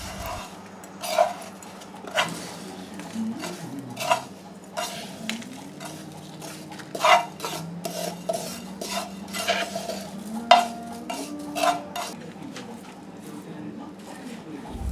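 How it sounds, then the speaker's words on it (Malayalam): Spoon stirring koottu curry with dried coconut in a pan for an Onam sadya, with repeated scraping clinks at an irregular rhythm over a soft sizzle while someone talks. "ഇനി ഇതെല്ലാം കൂടി നമുക്ക് നന്നായിട്ട് മിക്സ് ചെയ്ത് കൊടുക്കാം"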